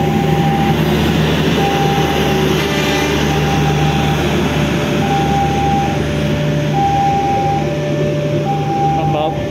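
A modified economy-class passenger train carrying 80-seat coaches rumbles steadily along the line, with a loud continuous roar and repeated short electronic tones over it, and a voice speaking above the noise.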